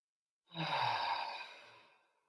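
A single slow, deep breath during a chair yoga session for stress, soft and close, swelling quickly then tapering away over about two seconds in otherwise quiet surroundings.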